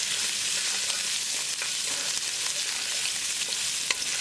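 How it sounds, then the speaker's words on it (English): Ginger and garlic fry in olive oil with cumin, stirred in a pan: a steady, dense sizzle holds throughout with faint scraping stir clicks scattered on top, no voices. "Cook until the raw garlicky flavor is gone."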